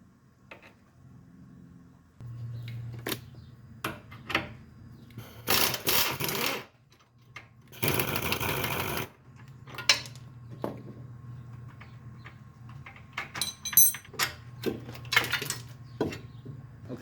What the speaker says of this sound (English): Just gonna use my cordless ratchet to get this out of here.